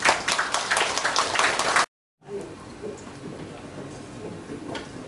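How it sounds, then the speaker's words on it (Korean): Audience applause at the Kim Gu-yong Literary Award ceremony: a dense burst of many hands clapping that stops abruptly, followed after a short gap by quieter, scattered room noise. "박수 한번 부탁드립니다."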